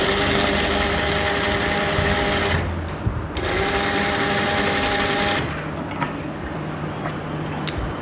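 A sewing machine stitches a quarter-inch seam while making continuous bias tape, a fast, steady motor whir running in two bursts with a brief pause between, then a quieter lower hum.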